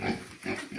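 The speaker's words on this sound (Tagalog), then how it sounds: "Ito po, may mga baboy yung pinsan ko." Pigs kept at a rural family house give a few short, low grunts in quick succession, close by, with no talking.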